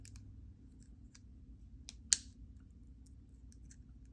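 Pliers cutting jewelry wire for a twisted wire wrap cross, one crisp snip near the middle amid faint small clicks in a quiet room.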